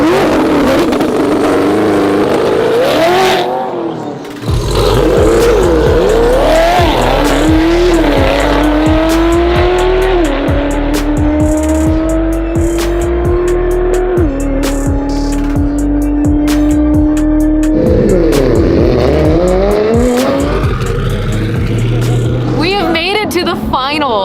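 Two Corvette race cars battling for the lead on a race track, engines roaring loud and sustained with rising and falling revs through gear changes, close and continuous for the whole stretch, with a voice talking over it.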